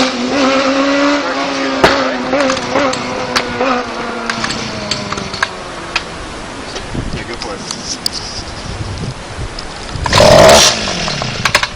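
A dirt bike engine runs up close during repair work, a loud revving whine that rises and settles, with scattered clanks and a brief burst near the end.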